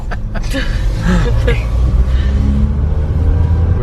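A car drives along a rural road toward a farm, heard from inside as a steady low engine and road rumble with voices over it throughout.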